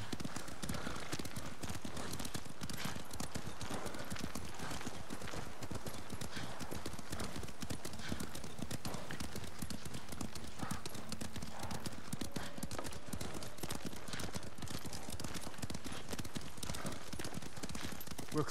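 Horses' hooves clip-clopping in the Ghost of Tsushima video game, a continuous rapid rhythm of hoofbeats throughout, fairly close, with faint speech mixed in.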